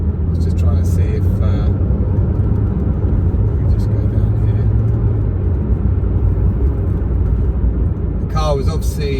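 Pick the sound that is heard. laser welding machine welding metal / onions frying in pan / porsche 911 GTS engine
porsche 911 GTS engine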